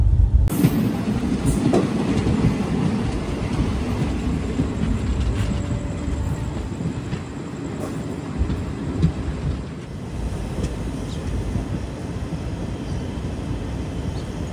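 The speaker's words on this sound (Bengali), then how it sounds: "ট্রেন মানমাদুরাই জংশন ছেড়ে এগিয়ে চলেছে রামেশ্বরমের দিকে।" An express train runs along the line from Manamadurai Junction toward Rameswaram, its steady loud rumble and rail clatter continuing throughout without any voices.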